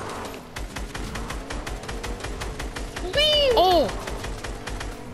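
Rapid, regular shots crack out in a steady stream during a drive-by in a GTA-style Fortnite match, fairly close and even, while a player briefly shouts excitedly over them midway.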